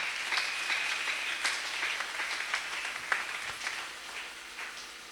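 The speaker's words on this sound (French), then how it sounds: "Acclamez le Seigneur." A church congregation applauding during a service, scattered hand claps building into a soft, uneven patter with a few sharper claps standing out, fairly quiet throughout.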